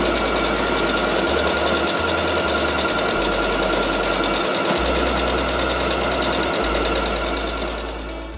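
A sewing machine runs steadily, stitching the curved seam of a ruched top taken in along both sides, a loud continuous mechanical hum filling the whole stretch with no talk.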